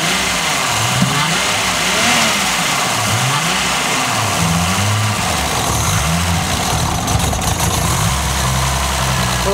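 A freshly rebuilt RB30DET in a Nissan Skyline R33 GTS4 runs steadily after its first start-up, a loud, close engine note with slightly noisy lifters and small rises and falls in revs, no voices over it.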